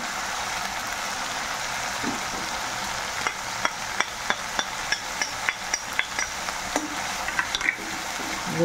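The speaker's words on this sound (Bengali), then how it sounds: "ভালো করে কষিয়ে নেব, তারপর বাকি মশলাগুলো দেব।" Fish roe masala with ginger paste frying in a pan, a steady broadband sizzle with a run of sharp, regular spatula taps against the pan in the second half; no voices.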